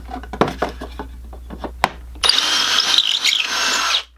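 A few light knocks and taps, then a power drill whines loudly for under two seconds before cutting off, drilling pocket holes in a 2x4 with a pocket-hole jig.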